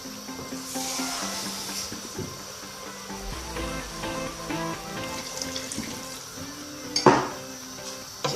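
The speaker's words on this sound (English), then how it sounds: "Then we're going to add in another cup of water." A cup of water is poured into a cooking pot of simmering onion, garlic and aubergine, splashing and trickling with a soft sizzle beneath. A sharper splash comes near the end, and no one speaks.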